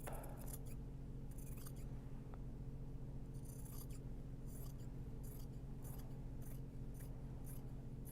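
Scissors trim interfacing for a Japanese fabric bag in a run of close, crisp snipping bursts, spaced irregularly over a low steady hum.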